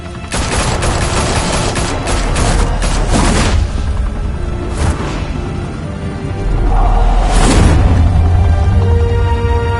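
Gunfire erupts in the Batman Telltale Series, dense rapid bursts of loud shots packed into the first few seconds, then a separate heavy blast with a booming low rumble after it.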